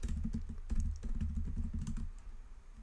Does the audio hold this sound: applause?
no